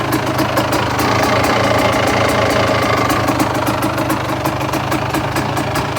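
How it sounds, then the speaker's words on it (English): A 1987 Honda CR250 two-stroke motocross bike, a past Texas cross-country champion, runs at a fast idle with a loud, close, rattling buzz and rapid ticking pulses, steady throughout with no speech. "For sale, 1987 CR250, 1991 Texas champion, cross-country champion."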